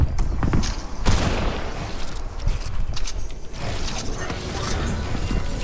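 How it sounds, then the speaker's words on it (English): Assault rifle reload in the video game Fortnite, a run of mechanical clicks and creaks that stays steady throughout, set against busy game noise with no talking. "I'm gonna reload my AR."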